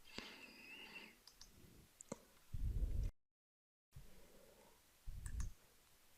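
Computer mouse clicks while opening a command prompt as administrator: a few sharp, isolated clicks near the microphone, with soft bumps of handling noise between them and a brief dropout of silence.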